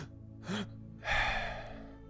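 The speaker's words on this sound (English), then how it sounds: "There'll be a double inhale and an exhale." A person does breathwork, taking a quick double inhale through the mouth followed by a long audible exhale, close and soft, with no words spoken.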